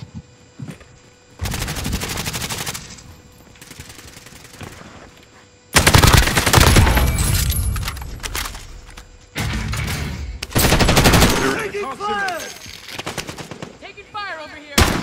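Bursts of automatic and single-shot gunfire from a multiplayer shooter video game, loud rapid volleys separated by brief pauses, with heavier overlapping fire near the end.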